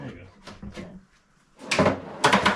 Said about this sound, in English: So when I slam it shut, it should lock.